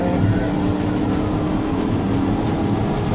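A car speeds along a highway during a police pursuit, its engine and tire roar loud and constant, as if heard from a following vehicle.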